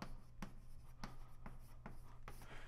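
Chalk or marker taps and scratches on a board during a mathematics lecture, a handful of faint, evenly spaced strokes over a quiet room.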